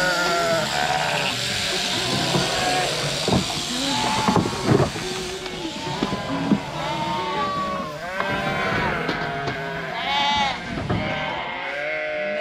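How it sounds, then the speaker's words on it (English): Sheep and lambs bleating in a pen on a farm during shearing, with many overlapping calls of varied pitch, some near and loud and others farther off, above a steady background hiss. "All the lambs are here."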